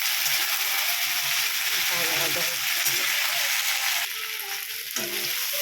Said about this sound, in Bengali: সবজি ভাজা হচ্ছে